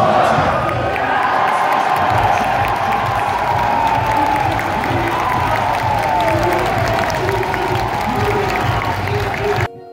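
A loud arena crowd roars and cheers continuously at an RLCS Rocket League esports event, with whoops and applause sustained throughout before cutting off abruptly at the end.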